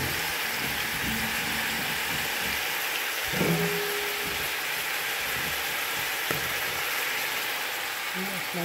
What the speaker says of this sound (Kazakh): Сәбізіміз салып қуырдық. Оның үстіне картошкамыз салып қуырамыз.